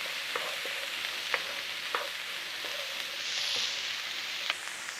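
Vegetables with a decent pinch of thyme being stirred in a hot pan, a steady sizzle broken by several sharp utensil taps and scrapes against the metal, with no talking.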